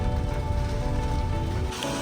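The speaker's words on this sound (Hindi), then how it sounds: "ऊपर से इतनी बारिश हो रही है" Heavy monsoon rain pours steadily near a parked Innova car on the road to a waterfall, a dense, continuous hiss with no talking.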